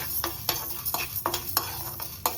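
Toor dal with curry leaves dry-roasting in a pan, stirred in a steady rhythm of scraping strokes about twice a second over a faint sizzle.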